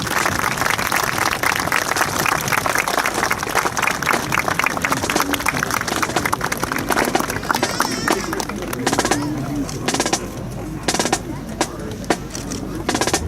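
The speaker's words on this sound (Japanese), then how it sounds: "皆様今一度盛大な拍手をお願いいたします。" A large outdoor crowd at a garrison festival applauds steadily as a student drill team leaves after its display, with dense, continuous clapping that thins toward the end into scattered claps and crowd murmur.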